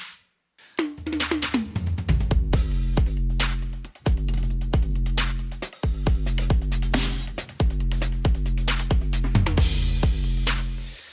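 Punchy, heavily processed snare drum hits repeat in a steady groove, each crack bright and compressed, playing loudly and continuously with no talking.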